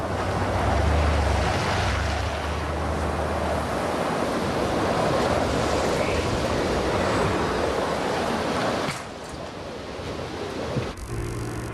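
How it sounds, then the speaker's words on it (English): Strong wind gusts and roars outdoors before a tornado, a loud continuous rush that drops briefly near the end before picking back up. "The wind is picking up."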